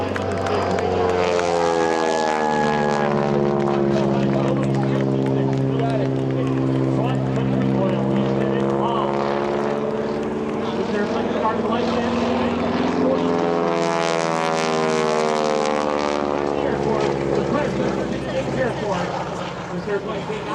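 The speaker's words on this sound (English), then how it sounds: "that big 985 cubic inch Pratt Whitney radial engine spinning here" A propeller airplane's 985 cubic inch Pratt & Whitney radial engine roars loudly and steadily at an airshow, its throbbing drone rising and falling in pitch as the aircraft flies past and circles.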